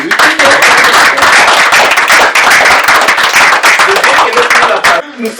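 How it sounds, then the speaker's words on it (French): Close, loud clapping from a group at a graduation ceremony of Ela Jambo, a Montreal school of African languages, with sharp individual claps standing out in a brisk, steady rhythm that stops abruptly near the end. "j'aimerais que tout le monde s'applaudisse"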